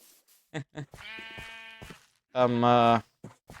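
Sheep bleat nearby in two wavering cries, a longer quaver early on and a louder, harsher bleat later, with scattered short sounds between them.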